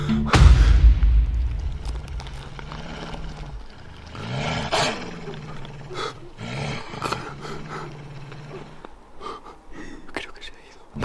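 A werewolf in a video game lets out a loud, deep roar near the start, followed by lower growling rumbles and scattered game sounds, with breathy whispering throughout.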